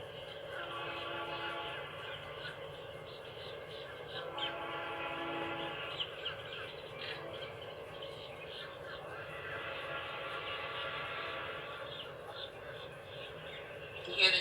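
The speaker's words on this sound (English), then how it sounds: "You hear the horn?" A train horn blares in long sustained blasts over the low rumble of a passing train, heard from a moderate distance.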